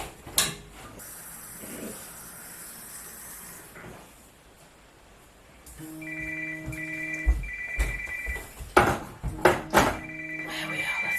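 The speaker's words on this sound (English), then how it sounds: "There we are, that's the phone call I was waiting for." A telephone rings with an incoming call, repeated electronic ringtone bursts in a regular pattern starting midway. It is preceded by quieter room noise, a few sharp knocks and a hiss.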